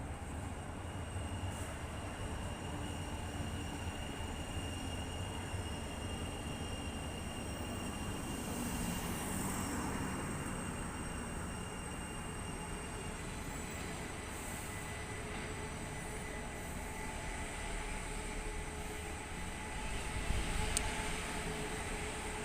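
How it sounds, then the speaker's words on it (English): A Sheffield tram bound for Rotherham Parkgate passes through the city centre: a low, steady rail rumble under busy street noise, with a brief whine partway through and a slight louder rise near the end, no talk. "I promised trams, and there is one, 399202, on its way to Rotherham Parkgate."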